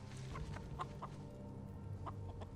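A chicken clucking in a Fallout TV episode, a series of soft, quick clucks repeating at a moderate distance over a steady low background hum.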